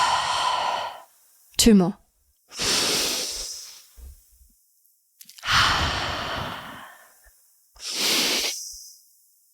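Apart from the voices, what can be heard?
deep breathing in through nose, out through mouth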